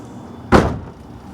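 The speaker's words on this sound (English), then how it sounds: "Now, here's another test. Let's see if the door shuts." A car door on a mid-engine turbo D16Z6 Honda Civic build shuts with a single solid thump, close and loud, followed by a quiet tail, and no talking.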